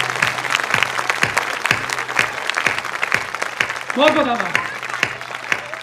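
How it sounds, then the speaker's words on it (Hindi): Audience at a Hindi poetry recital breaking into loud, rhythmic applause with a minister joining in, steady claps under a voice speaking briefly near the end. "मंत्री जी आप ताली बजा रहे हैं, बहुत अच्छा।"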